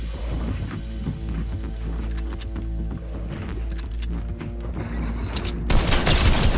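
Rapid, sustained gunfire in a Fortnite Chapter 2 match, a dense continuous fusillade over a low hum that swells louder toward the end.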